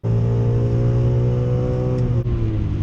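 A BMW E46 M3 with a manual gearbox: its engine holds a loud, steady, buzzing drone under load, with a brief dip near the end as the revs shift, and no talking.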